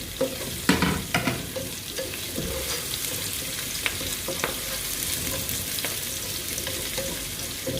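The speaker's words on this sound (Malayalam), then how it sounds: "അതുകൂടി ഈ ഇഞ്ചി വെളുത്തുള്ളി അകത്തോട്ട് ഇട്ട് കൊടുക്കാം. ഇത് ഒന്ന് വഴന്ന് വരുമ്പോഴത്തേന്" Ginger, garlic and green chillies sauté in hot oil for a chicken stew, a close, continuous sizzle with repeated stirring scrapes and light taps of the spoon against the pan.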